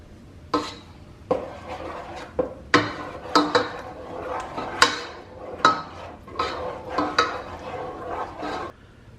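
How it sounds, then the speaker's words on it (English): A spoon stirs minced garlic and butter into mashed potatoes in a pot, with repeated clanks and scrapes against the pot in an irregular rhythm, fairly loud and close, without speech. "And I'm going to stir that in."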